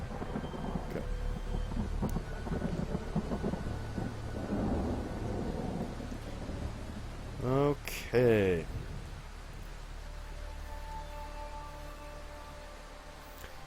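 Thunderstorm-and-rain ambience plays as steady broadband noise beneath a tabletop role-playing game session, with players talking over it and a brief louder rumble midway.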